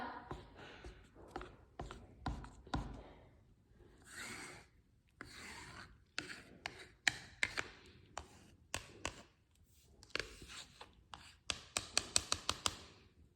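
A can of gray-blue interior wall paint being stirred by hand, scraping and knocking sounds in irregular bursts with quiet gaps, growing into quicker taps toward the end.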